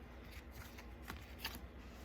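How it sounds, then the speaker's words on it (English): Mini tarot deck cards are shuffled in quick, steady riffling bursts, soft and close, with a few sharper card slaps standing out partway through. "I know they probably don't want to see me shuffling all day."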